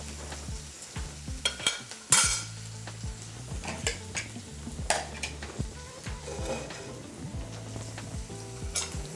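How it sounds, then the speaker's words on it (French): Beans are poured into a pot of browned onions and spices, setting off a steady sizzle with scattered clinks of a utensil against the pot as the mix is stirred; no voices. "Là, nous versons nos haricots."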